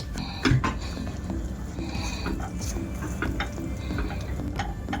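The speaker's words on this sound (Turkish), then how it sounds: "Hızlı bir şekilde karıştıracağım." A whipped cream mixture for a purple carrot cake is stirred quickly in a pan, producing rhythmic scraping and ticking clicks of a utensil against the pan over a low steady background.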